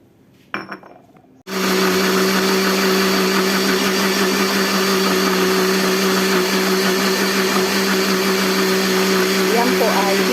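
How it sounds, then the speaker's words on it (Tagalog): A loud blender blending cucumber switches on after a brief clatter and runs steadily with a constant motor whine, close by. "Ngayon, i-blend na natin. Unahin natin i-blend ang pipino."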